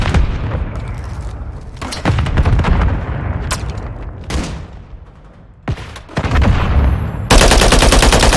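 A frag grenade blast and heavy automatic assault rifle fire in Call of Duty MW3: loud, dense bursts of gunfire with booming impacts, nearly continuous and growing more intense toward the end.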